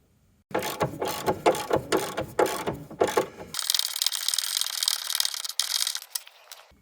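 Rapid ratchet clicking as bolts on the front lower suspension arm of a Volvo V50 / Mk2 Ford Focus are undone, in quick bursts, followed by a steadier whirring run.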